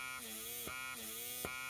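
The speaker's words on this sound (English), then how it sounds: "Nice little pump." A small medical wound suction pump runs with a steady electric buzz, broken by a rhythmic pulse roughly every three-quarters of a second, close and alone.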